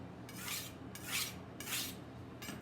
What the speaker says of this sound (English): I want to show you guys how I sharpen knives.